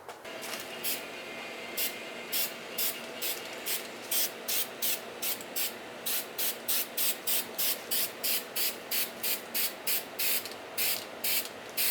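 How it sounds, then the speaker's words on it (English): Aerosol spray can laying a dusting first coat of primer over a shaved car engine bay on an E36 drift build, heard as a long run of short, regular hissing bursts with brief pauses between them, close and steady. "The first coat of primer, just kind of dusting everything"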